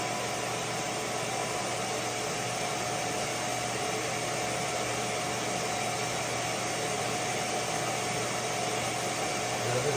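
CNC router spindle turning a 1/8 inch end mill, a steady continuous whine and hiss held at an even level throughout, with no voices.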